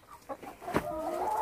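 Young hens, about four months old, in a backyard coop cluck softly in short broken calls, then a longer drawn-out cackle, close by and fairly quiet.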